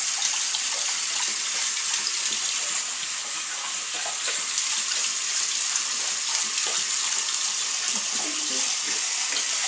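Cold water runs steadily from a tap, a continuous bright hiss and splash that holds even throughout without pause.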